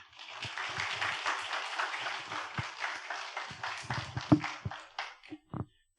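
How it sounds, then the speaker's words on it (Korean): Congregation applause at a Sunday Methodist church service welcoming a missionary to the front, many hands clapping in a steady, moderately loud rhythm that thins out into a few last scattered claps. "우리 나오실 때 큰 박수로 환영해 주시기 바랍니다"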